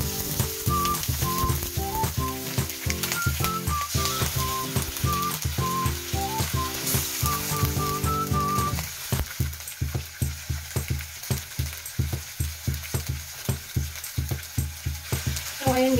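Chicken pieces and onions sizzling as they sauté in a pot for Filipino sinigang na manok, a steady close frying hiss. Music with a repeating rhythmic beat plays over the first half.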